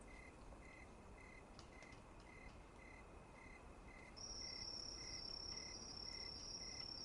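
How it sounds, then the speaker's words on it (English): Crickets chirp in a steady pulsing rhythm throughout in a quiet night setting, joined midway by a loud continuous high insect trill. "it's really punctuated by crickets."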